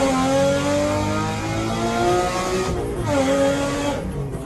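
A turbocharged Nissan 350Z engine revs hard and loud, rising and falling through several climbs in pitch, one short break near the end, and no voices.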